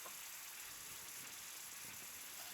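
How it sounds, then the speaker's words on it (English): Shallots sizzle in a hot pan with a steady, close crackling hiss that runs unbroken through the whole clip. "So we're gonna put in our shallots. Here a little bit of a sizzle,"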